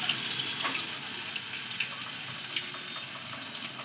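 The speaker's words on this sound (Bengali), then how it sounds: "এইবার দেখো আমি এটাকে আমি বেসনে ডুবিয়ে ওর মধ্যে ছাড়বো গরম তেলে" A bottle gourd leaf fritter stuffed with pumpkin and dipped in gram flour batter fries in hot oil, making a steady, close, bright sizzle with fine crackling pops throughout.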